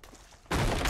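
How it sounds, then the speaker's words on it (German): A sudden loud blast of gunfire in Uncharted 2: Among Thieves cuts in halfway through after a quiet stretch, sustained and harsh like a burst of shots. "ich glaube, ein Schuss"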